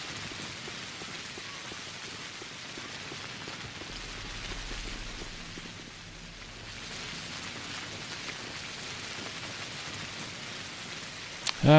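Rain in the video game Pathologic, a dense, steady hiss of loud downpour with scattered droplet ticks, continuous throughout and briefly dipping midway before swelling again.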